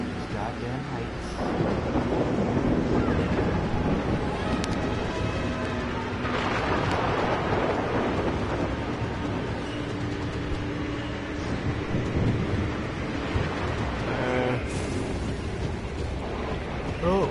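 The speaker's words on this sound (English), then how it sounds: "kinda just got swept away by a big ass storm." In Far Cry Primal, a storm roars with steady wind and rumbling thunder, a dense, loud wash lasting the whole stretch with occasional sharper cracks.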